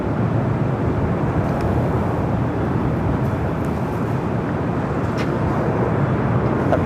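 A Delta passenger jet takes off from runway 24 left at Los Angeles International Airport, heard as a steady, loud, broadband engine roar rumbling continuously and evenly throughout, with no voices over it.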